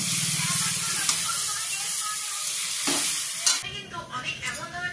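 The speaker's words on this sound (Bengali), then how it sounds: "এবার আমি ফাইনাল জল দিয়ে দিব।" Water pours onto meat and potato curry cooking in a pot, a loud sizzling, stirring hiss giving way near the end to a softer, bubbling rush as the liquid settles in.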